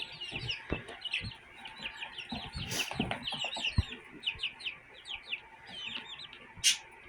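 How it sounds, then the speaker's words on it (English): Baby chicks in a small backyard flock chirp in a steady stream of short, high peeps, with several birds calling over one another close by and one louder squawk near the end. "these are our little baby chicks"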